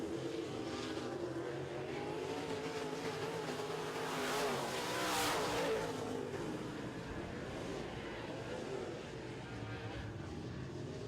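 Modified race cars roar around an oval racetrack in a dirt-track heat race, a steady loud engine drone swelling as the pack passes near the finish, with an announcer talking over it throughout.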